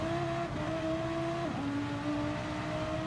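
A Gran Turismo race car engine drones and wavers in pitch as the tires struggle for grip in rain, a continuous mechanical whine with a sudden drop partway through.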